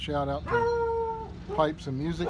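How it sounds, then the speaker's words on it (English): A dog howls and barks at a UPS delivery man, two drawn-out wavering howls close by with a short bark between them, and a person speaks briefly. "That's my dog."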